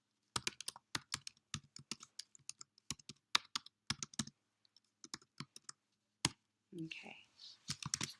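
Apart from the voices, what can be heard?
typing code on a computer keyboard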